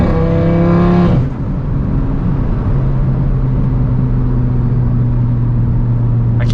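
An Audi RS3 engine revs hard while driving, its rising harmonic howl cutting off sharply after about a second and then settling into a loud, steady drone as the car keeps moving.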